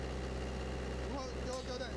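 Engine idling steadily with a low, even hum and harmonic drone, fairly faint, while a voice speaks over it.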